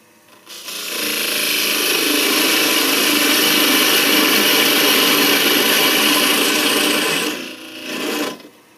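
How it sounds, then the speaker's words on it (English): A parting tool cuts into a wine bottle stopper blank spinning on a wood lathe at slow speed, giving a steady, loud, close grinding hiss. It holds for about six seconds and then dies away. "I'm going to use my parting tool, and we're going to go on a pretty slow speed"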